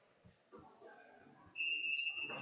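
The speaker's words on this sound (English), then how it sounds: "Hand drop, whistle blown." A referee's whistle starts a roller derby jam with one sharp, sustained blast lasting about half a second, loud over the murmur of an arena crowd.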